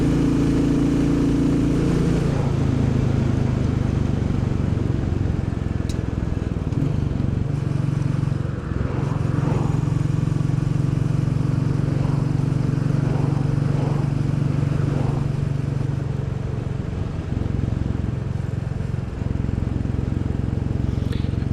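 A Royal Enfield Bullet 350 motorcycle on the move, its engine droning steadily and loudly with slight shifts in pitch as it rides on, wind and road noise mixed in and no talking.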